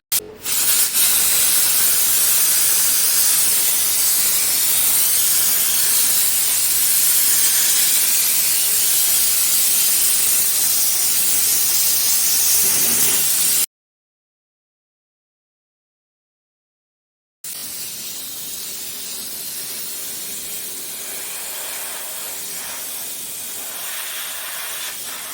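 A steam cleaner blasts a stove with a loud, continuous hiss for about thirteen seconds, then cuts out completely for several seconds before the steady spray resumes at a somewhat lower level.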